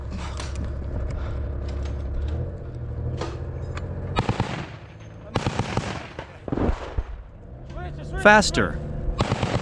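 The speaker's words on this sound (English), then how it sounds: "Move, before their machine gun pins us down." Gunfire in a combat zone, likely including machine-gun bursts, cracks out in repeated sharp bangs and short volleys between rumbling noise, some close and loud, others more distant, with voices shouting over the shooting.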